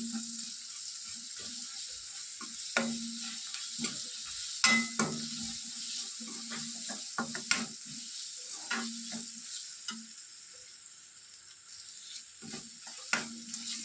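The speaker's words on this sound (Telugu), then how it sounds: "ఆ పేస్ట్ని వేసేసి పచ్చి వాసన వెళ్ళేంత వరకు దీన్ని బాగా వేగనివ్వాలి" Freshly pounded ginger garlic paste fries in a pan for okra kurma, giving a soft, faint sizzle broken by intermittent spatula scrapes and taps.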